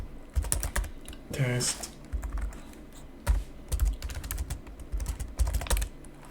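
Typing on a computer keyboard while coding, with close, quick bursts of key clicks in uneven clusters and a brief spoken word partway through.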